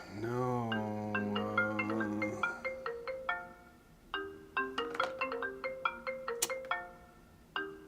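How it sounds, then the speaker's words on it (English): A phone ringtone for an incoming call plays a cheerful melodic sequence of bright tones, starting with gliding notes and then quick plucked-sounding beeps, clear and close with no talk over it. "And then I get a phone call."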